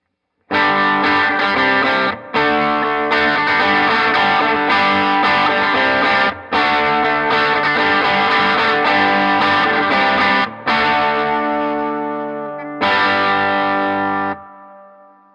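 Electric guitar with a P90 pickup, played through a Harby Noble Tone pedal on its boost setting with a little gain, rings out loud and close in sustained chords, with brief breaks between strums.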